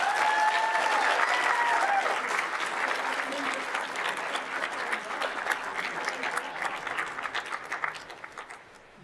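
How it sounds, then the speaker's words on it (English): An audience applauds at a Board of Supervisors meeting for a staff member honoured for 30 years of service, with family and friends present. The clapping is dense and sustained, then thins and fades toward the end. "let's give him a round of applause"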